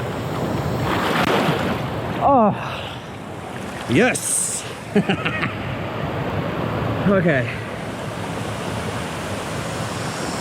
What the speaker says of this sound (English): Oh, it's powerful, that water.